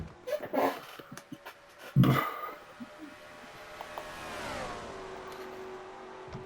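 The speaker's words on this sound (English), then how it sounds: "Six laps to go for Dougie Shears, car 55, the Square D Chevrolet" Stock car racing engine of the number 55 Square D Chevrolet on a race track, a broad engine roar that rises and sweeps in pitch as the car passes, after some sharp bursts of noise near the start.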